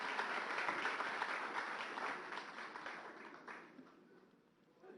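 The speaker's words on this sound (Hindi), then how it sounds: "उनको तालियों से स्वागत कीजिए।" A studio audience claps to welcome Delhi Chief Minister Arvind Kejriwal, a quiet, even patter of many hands that gradually thins and fades.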